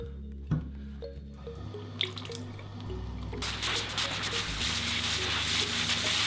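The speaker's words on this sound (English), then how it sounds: "Okay, I'm gonna rinse this down." Water runs and splashes while a bath is rinsed down after natural cleaner is used on it. Scattered drips and small knocks come first, then a steady, fairly loud rush of water builds and carries on to the end.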